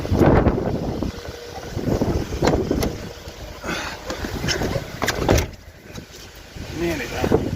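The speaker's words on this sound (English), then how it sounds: "A bit windy now." Gusty wind buffets the microphone outdoors, with uneven low rumbling surges that rise and fall throughout.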